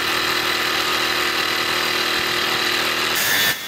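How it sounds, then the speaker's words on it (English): A jigsaw cuts curved sections of a metal burner door for a rocket mass batchbox heater, a continuous loud, harsh buzzing saw drone that holds steady for a few seconds before cutting off abruptly. "I then used a jigsaw to cut the curved parts, trying to cool it as I went along using WD-40."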